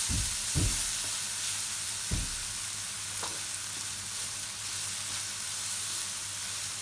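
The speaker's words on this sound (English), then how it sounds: "That's a nice little stir." Chopped garlic sizzling in a pan for king prawn fried rice, stirred with a few sharp scrapes near the start over a constant frying hiss, close up and without talk.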